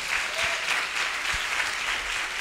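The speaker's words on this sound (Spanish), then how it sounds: "un aplauso" Steady applause from an audience at a health business opportunity meeting, continuous dense clapping throughout at even loudness with no talk.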